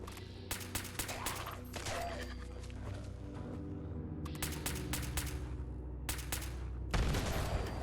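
Rapid gunfire in Fallout 76: several bursts of automatic shots with gaps between them, loud and close over a steady game background.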